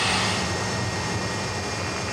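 Thrust SSC jet-powered land speed record car with its engine starting, a loud steady jet roar and hiss that fills the whole short span without pause or voices.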